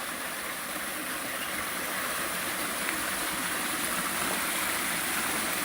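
A waterfall on the Appalachian Trail, heard close up as a constant, full rushing roar of falling water, steady and unbroken with no voices.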